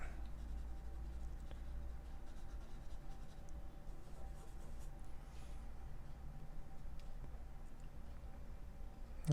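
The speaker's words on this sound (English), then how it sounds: "And I can keep loading it up with the graphite." A soft graphite pencil shades steadily on paper with a continuous, faint scratching texture that stays even and close, with no speech.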